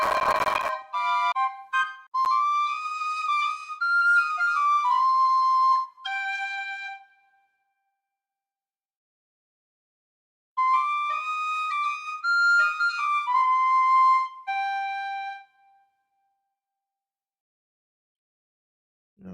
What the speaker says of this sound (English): Irish whistle